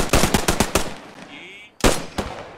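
Rapid bursts of gunfire from the video game Post Scriptum, a quick string of loud close shots, a short pause, then more shots, with brief spoken words in between.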